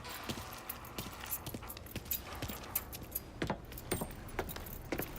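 Keys jangling in the video game Mafia III, a quiet run of small metallic clinks and rattles with soft scattered knocks, close and unaccompanied by talk.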